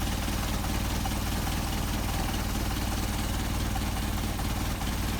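A car engine fitted with Solex 44PHH carburetors idles steadily with a close, even rumble and no pauses, heard alone for several seconds during idle mixture tuning.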